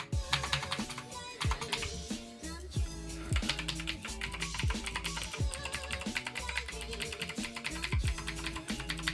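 Rapid, continuous clacking of a computer keyboard being typed on up close, with an even rhythm of crisp keystrokes and occasional heavier taps.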